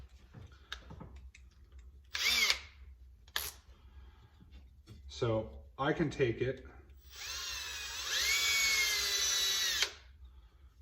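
A few brief taps and a short remark, then a hand drill with a 3.5 millimeter bit bores steadily into a knife handle for about three seconds with a high, whining grind before stopping.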